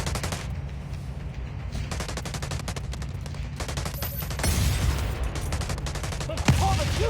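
Weapon gunfire in The Division Resurgence cracks out in rapid, closely spaced bursts of sharp shots, loud and nearby, continuing in rattling strings with brief gaps and a heavier stretch near the end.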